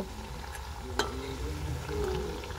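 A crisp snack made from raw potato fries in a pan over a low-to-medium flame, giving a steady close-up sizzle with soft stirring scrapes and one brief sharp clack near the middle.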